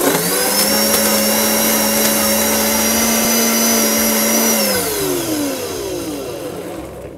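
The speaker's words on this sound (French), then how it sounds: "il me faut le lait, sucre, pâte d'amande et l'amaretto. Tout ça dans le mixeur." An electric blender whirs steadily at close range while blending milk, sugar, almond paste and amaretto for a chilled amaretto soup, a constant motor drone that shifts down in pitch near the end as it slows.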